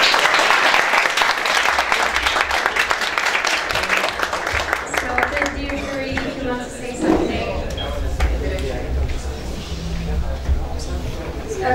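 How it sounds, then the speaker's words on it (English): At a techathon final presentation, the audience breaks into a round of applause, loud dense clapping at first that gradually loosens into scattered claps with murmured talk beneath. "one big round of applause"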